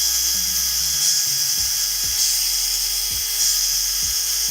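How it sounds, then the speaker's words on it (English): A drill bores holes in plastic, its high whine rising and falling in repeated short bursts as the bit catches and winds down, close and fairly loud over a faint background hum. "I'm going to drill these holes in here."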